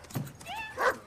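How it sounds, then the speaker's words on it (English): A dog in a mystery film scene gives a short bark that rises into a whining, yelping tone and then a louder bark, close and fairly loud, all within about a second. "The dog's barking at them"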